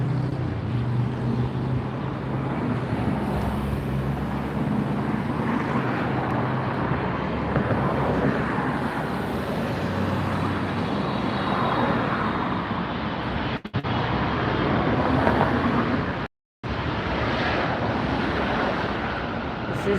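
Cathay Pacific airliner at Los Angeles International Airport, a broad, steady jet roar heavily buffeted by wind noise, continuous with a brief dropout near the end.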